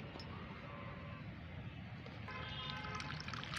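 Homemade liquid plant fertilizer strained at home, a steady close pouring and trickling wash that runs unbroken throughout.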